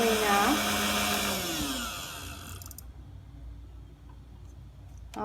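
An electric beater whirs loudly through date cake batter with milk, its pitch sliding down before it switches off, leaving a quiet kitchen.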